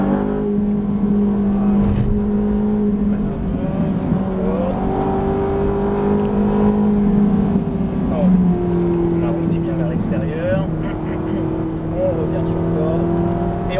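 Ferrari 458 engine pulling hard at full throttle around a circuit, a steady loud drone rising and falling in pitch through corners, with an instructor talking over it.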